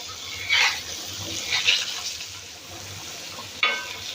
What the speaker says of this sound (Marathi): एक साईड आपली शेकलेली आहे फ्राय झालेली आहे आपण पलटी करून घेऊया